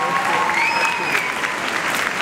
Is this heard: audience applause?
yes